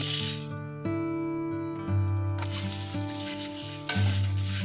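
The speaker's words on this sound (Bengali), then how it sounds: "একটু নাড়াচাড়া করতে হবে একটু ভাজা ভাজা হলেই" Whole spices and coriander seeds dry-roasting in a pan give a soft scratchy rattle as they are stirred, heard under steady background music with no talk.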